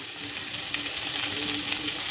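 Chopped green chilli and garlic fry in oil in a pan for a home-made pav bhaji, giving a steady, close sizzle with faint scraping and stirring clicks and no talking.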